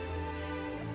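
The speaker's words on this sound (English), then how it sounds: "It's raining." Rain falling in the video game Genshin Impact, a soft, steady, quiet patter lasting about a second with no talk.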